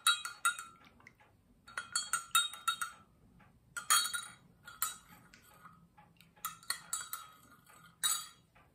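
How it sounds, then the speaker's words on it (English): A spoon stirs a cup of Kenyan tea sweetened with honey, clinking sharply against the cup in quick clusters of light taps with short gaps, close and clear against a quiet room. "Give it a stir."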